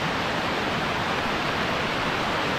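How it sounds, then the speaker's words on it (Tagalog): Gabog-Gabog Falls, a waterfall, gives a steady, dense broadband rush of falling water that holds constant and fairly loud throughout, with no voices. "Kahit pa paano, nakita naman natin itong Gabog-Gabog Falls."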